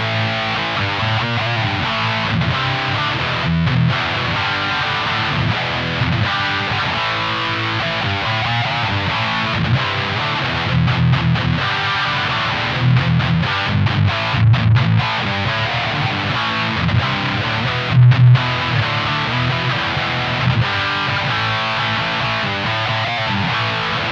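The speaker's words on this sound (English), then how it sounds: "let's listen to Overdrive 1 right now" Electric guitar rhythm playing through a Blackstar ID 30 TVP combo amp on its overdrive channel, set British-style with no effects, a dense, steady distorted chord wash with short choppy breaks, loud and close throughout.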